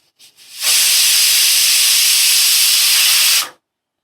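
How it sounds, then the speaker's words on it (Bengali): A pressure cooker whistle while banana stem boils inside, a loud steady steam hiss lasting about three seconds close by before cutting off abruptly. "দেখো একটা সিটি হয়ে গেল"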